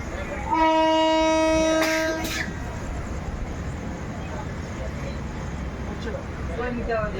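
A passenger train on the way to Dwarka runs steadily beneath a carriage, with a loud multi-tone horn sounding for about two seconds near the start, then the continuous rolling rumble alone.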